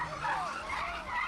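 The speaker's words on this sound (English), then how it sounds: "the screeching tires of a fresh Kia can be heard driving into the gardens" Tires of a stolen Kia screech continuously for a moment, a wavering high squeal carrying over a rough engine rumble, fairly close and steady in level.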